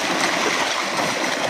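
Water pours out of a cooking pot in a steady, close rushing stream with a splashing, gurgling texture, running alone without pause.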